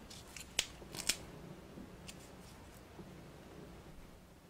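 Scissors snip paper for a Stampscapes stamping project: two crisp, close cuts in quick succession, then a few fainter snips against quiet room tone, with no voices.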